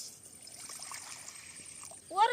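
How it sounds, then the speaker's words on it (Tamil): Water is poured into a pot to cook sago for vada, a faint soft trickle with a louder splashing pour at the end. "தண்ணி ஊற்றி சவ்வரிசி வேக வச்சுக்கலாம்."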